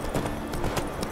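Quick hoofbeats from Roach, the horse in The Witcher 3, gallop in a fast, even rhythm for about a second over a background music bed.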